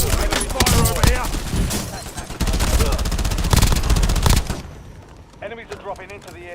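Rapid automatic gunfire in the Call of Duty Warzone video game, dense sustained bursts of shots that thin out near the end, loud and close, with in-game voices talking over it.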